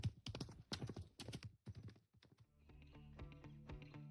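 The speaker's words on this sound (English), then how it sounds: "Is that a horse?" Horse hooves clip-clop in a quick, irregular run of sharp taps, fairly close, then give way to a brighter rhythmic clatter; no talking.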